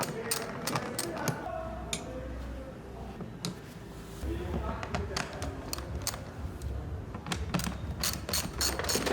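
A hand ratchet clicks in quick bursts while undoing the 8mm bolts on the microfilter housing of a BMW N20 four-cylinder engine, sharp close ticks repeating in several runs with short pauses between them.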